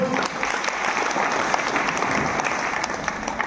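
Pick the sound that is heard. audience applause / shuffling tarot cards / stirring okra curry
audience applause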